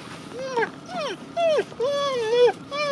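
A dog whimpers and whines in a string of high, wavering, pitch-bending cries, close and fairly loud, with short pauses between them.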